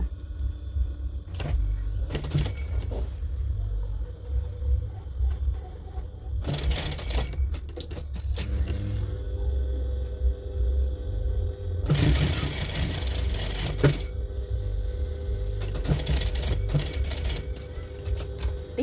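A sewing machine stitching the side seam of a dress, running in several separate bursts of rapid whirring needle rattle, with quieter pauses between runs, close and clear, no talking.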